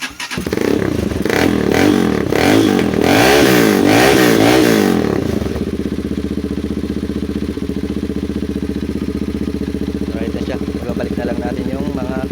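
A Motorstar 200 cc motorcycle engine with upgraded starter wiring cranks and catches, revving up and down several times before settling into a steady idle, loud and close.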